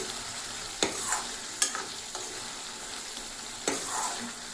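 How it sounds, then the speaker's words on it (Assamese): Potatoes fry in a pan with meat masala, giving a loud, close sizzle broken by a few sharp clatters as they are stirred. "এইখিনি অলপ ভালকৈ ভাজি লওঁ"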